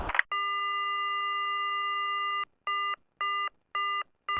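A telephone busy tone in the horror game Silent Hill after a call ends: one long steady multi-pitched electronic tone, then four short evenly spaced beeps, clear and alone.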